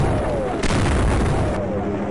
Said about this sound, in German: nett, dass dieses Geschütz hier einfach mal drauf böllert